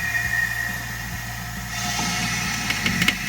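A pneumatic car jack lifting a vehicle at normal speed, a steady hissing, humming drone from the air-driven mechanism with a few sharp knocks and clunks near the end.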